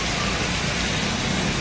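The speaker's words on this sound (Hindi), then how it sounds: "फुल बारिश आ गई है, मस्त वातावरण ठंडा ठंडा हो चुका है।" Heavy rain pours down during a downpour, a loud, continuous broadband hiss of close, dense falling water with no break.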